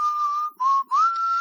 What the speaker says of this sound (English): no whistling in the mic, makes for bad audio